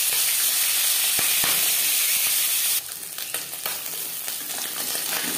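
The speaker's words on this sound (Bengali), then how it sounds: "4 চামচ রিফাইন্ড অয়েল গরম করে নেওয়ার পর দিয়ে দেবো মাছ।" Small fish frying in a few spoons of hot refined oil produce a bright, constant sizzle that drops and turns into uneven crackling and spitting partway through, heard close with no talking.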